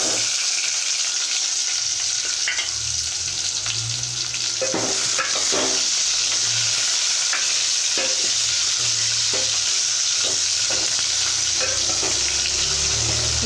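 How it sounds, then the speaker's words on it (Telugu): Onion pieces frying in a pan for drumstick sambar, with a steady loud sizzle and intermittent stirring scrapes of a spoon throughout. "ఇప్పుడు ఉల్లిపాయ ముక్కలు వేసుకోవాలి"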